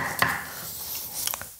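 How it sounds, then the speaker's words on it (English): A knife chops food on a cutting board during home meal prep, producing a few sharp, close taps and knocks with scraping in between, without any speech. "here I am just cutting away"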